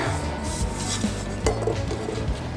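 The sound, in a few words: scraping pizza dough from the mixing bowl and dough hook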